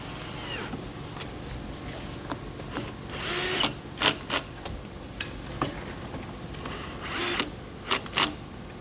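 A power drill on a low clutch setting drives screws into rubber bumpers on an LED billiard table, giving short close whirring bursts with clicks in between, loudest in two pairs of runs.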